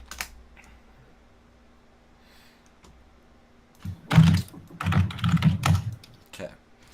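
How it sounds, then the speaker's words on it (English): Someone types an email address on a computer keyboard during an online gaming coaching session: a quiet lull, then two close bursts of rapid key clatter lasting a couple of seconds. "I'll type my email in the Discord chat."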